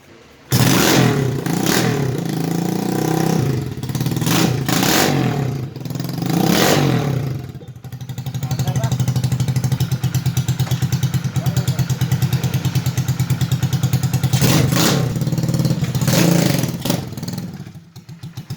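A TMX 155 motorcycle engine revs loudly and close by in repeated bursts, then settles into a steady rapid idle thrum before revving up again near the end.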